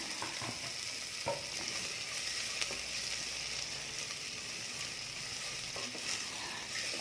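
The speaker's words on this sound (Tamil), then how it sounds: "இந்த வெங்காயத்தை வந்து நல்லா நம்ம பொன்னிறமாக வதக்கிக்கலாங்க" Onions sizzle steadily in hot oil while being sautéed for a Tamil fish curry (meen kulambu), a continuous close frying hiss with faint stirring clicks and no voices.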